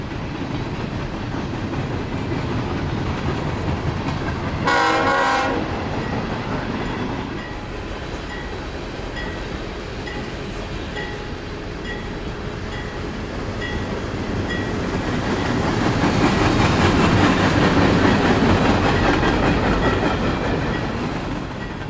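A CSX freight train, Q395, rolls past trackside in northwest Indiana with a steady heavy rumble and clatter of cars, while a brief horn blast sounds early and the roar swells toward the end.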